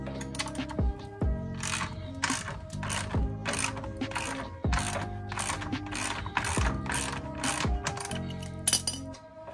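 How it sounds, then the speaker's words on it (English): Hand wrench ratcheting in repeated quick bursts while an 18 mm sway bar end link is removed from a Can-Am Maverick X3 UTV, with close metallic clicks and clanks over a steady background hum. "Gotta take this sway bar end link off."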